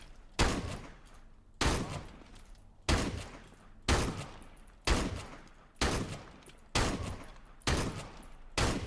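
Gunfire from a gun in the video game CS:GO: eight sharp, evenly spaced single shots about a second apart, each loud with a short ringing tail, and no speech.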